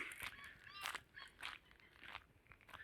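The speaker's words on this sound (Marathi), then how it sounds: "माझ्या मागे ऐकू शकता तुम्ही थोडासा आवाज येत असेल पक्ष्यांच्या आवाजांचा" Faint, distant birds call in the evening in a Konkan village, in short, repeated bursts, overlapping chirps and honking cries against a quiet outdoor background.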